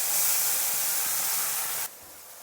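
Ground spice paste hitting hot oil for a Bengali rohu fish and cauliflower curry gives a loud, steady broadband sizzle that holds for about two seconds, then drops abruptly to a softer hiss; no voices.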